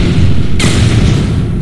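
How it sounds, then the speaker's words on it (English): A loud, sudden blast from a video game explosion bursts in partway through, its rumble holding over a steady, busy game soundscape. "Explode! I love explosions."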